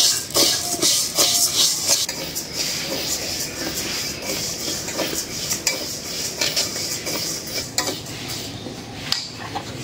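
Mung dal dry-frying in a wok, stirred with a metal spatula that scrapes and clatters against the pan in a steady, busy rhythm close by, with no talking.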